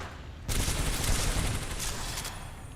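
A sudden burst of rapid gunfire in the video game Titanfall 2 erupts and continues as a dense, loud rattle of shots for over two seconds.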